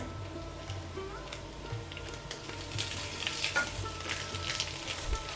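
Curry leaves frying with browning coconut in a pan for a pumpkin and cowpea curry, a low steady sizzle with light crackles and spoon scrapes that grow a little busier midway, close and quiet.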